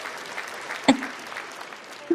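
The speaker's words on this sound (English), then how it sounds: "I like the applause." Audience applause welcoming a singer, a moderate steady patter of clapping with a sharp clap-like burst near the middle and another near the end.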